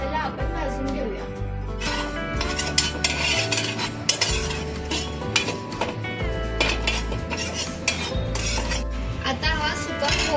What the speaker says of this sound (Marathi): सर्वात आधी हा मसाला आपण भाजून घेऊया।